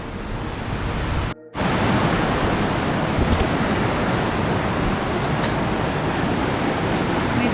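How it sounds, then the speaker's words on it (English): A waterfall on Mine Road Trail rushes as a steady, broadband roar close by, continuous apart from a brief dropout early on, with no voices. "Well, that's that waterfall."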